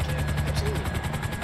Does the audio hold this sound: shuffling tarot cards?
no